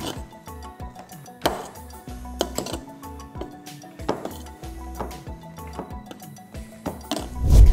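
A cooking pot is lifted out and set down in a home kitchen after cooking dal for paruppu payasam, giving several clinking metal knocks and thuds spread across the scene, with a heavier bump at the end and some quiet talk.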